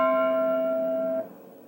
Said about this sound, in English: Now it's displayed again with its companion tones, making the typical bell sound.